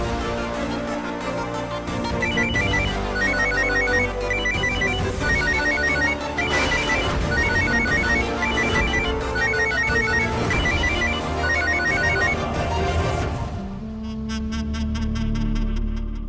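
A mobile phone plays a loud, repeating melodic ringtone for about fourteen seconds, then switches to a quicker series of high beeping tones, with no talk over it.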